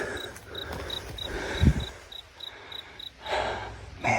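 Cricket chirping in thick summer woods, a steady series of short high pulses repeating evenly throughout, with rustling and a low thump partway through.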